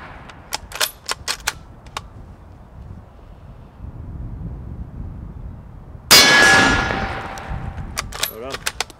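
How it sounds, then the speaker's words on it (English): Rifle shots striking a steel target at 100 yards on an outdoor hunting range: sharp metallic clangs and taps, then one loud crack with a ringing ping and fading echo, followed by further light clinks. "we each take 2 shots at the steel target from 100 yards"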